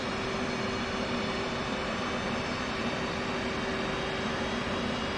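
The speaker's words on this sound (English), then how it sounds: "This will add fuel to the engine and start the igniters." An F/A-18C Hornet jet engine starting up in the DCS flight simulator, heard as a steady, droning roar with a constant whine layered through it, sustained and even throughout.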